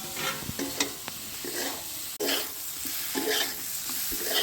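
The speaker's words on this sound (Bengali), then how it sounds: "মশলাটা ভালোভাবে কষিয়ে নিয়ে ভেজে রাখা ডিম আর আলুগুলো দিয়ে দেব।" Fried eggs and potatoes tossed into a sizzling spice paste in a pan, with loud continuous frying hiss and repeated scraping stir strokes, close and with no talking.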